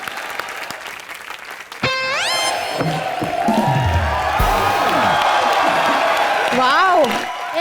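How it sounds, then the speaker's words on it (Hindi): Studio audience applause and cheering on a live Colors TV comedy show, loud sustained clapping and whoops under a host's voice and musical sound effects, with swooping tones cutting in. "एक बार जोरदार तालियां हो जाए"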